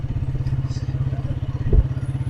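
A motorcycle engine thrums with a rapid, steady pulse as it rides through a bazaar in Jhal Magsi, loud and close, with a brief thump partway through.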